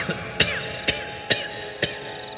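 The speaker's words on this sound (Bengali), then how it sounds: "পিছন থেকে একটা কাশির আওয়াজ শুনতে পায় দুজনে" A series of short, sharp coughs, four or five evenly spaced bursts over a steady background, heard as a sound effect in a Bengali ghost audio story.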